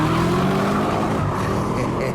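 A Chevrolet Camaro SS with its 6.2-litre V8 pulls hard under acceleration, a loud, continuous engine roar that rises steadily in pitch, heard close up.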